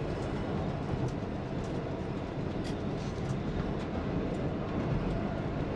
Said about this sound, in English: fortunately, a train runs through it